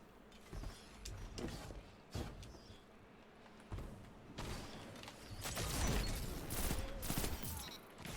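Grenade launcher fire from the shooter game Destiny 2, heard as a dense run of loud bursts and explosive thumps with mechanical clanks, swelling into a sustained barrage in the second half.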